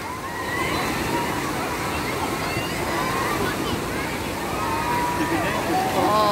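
Waves starting in an indoor wave pool, continuous sloshing and churning water filling the space, with people talking and calling out over the wash.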